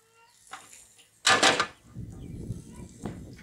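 A metal pan and lid clatter on the stovetop while okonomiyaki cooks, with one loud clunk of the cover being set down, a few softer knocks before it, and a light sizzle afterward.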